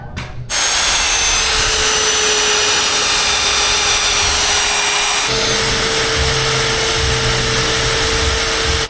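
A magnetic drill bores winch mounting holes in a wrecker's steel frame: a loud, close, steady motor whine that shifts to a lower, grinding tone partway through.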